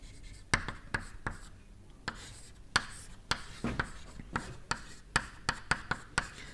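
Chalk or marker writing on a lecture-hall board, heard as sharp intermittent taps and short scratching strokes in an irregular rhythm, fairly faint against a quiet room.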